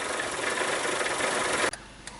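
A 2003 Mazda Protege engine misfires loudly up close with a rough, uneven idle, then abruptly cuts to a quieter hum near the end.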